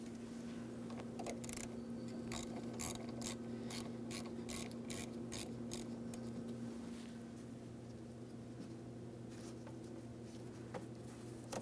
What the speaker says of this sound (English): you're going to loosen your 10mm mounting hardware, just enough that you can remove the terminal end from the battery post